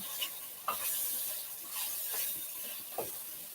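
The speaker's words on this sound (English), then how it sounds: "Turn this down a little bit and let it saute" Mushrooms and onions sauteing in oil in a pan for risotto, a soft steady hiss broken by a few light scrapes of stirring, quiet and close with no talking.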